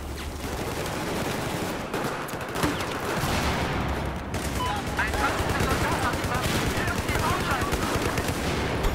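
Battlefield 4 team deathmatch gunfire: a dense, continuous clatter of rapid shots and bursts throughout, with several weapons firing close and far at once, in places under faint talk.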